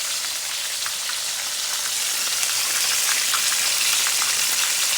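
Chicken wings fry in hot oil for old-school fried chicken, giving a continuous dense sizzle with scattered crackling pops, steady and close, with no voices.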